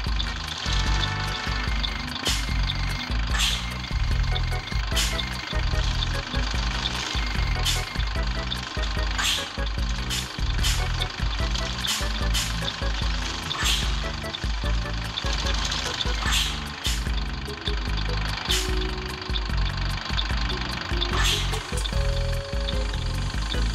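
A Neobus city bus engine runs steadily without acceleration on a simulated route, a low rhythmic diesel throb with regular clacking pulses, loud and close throughout.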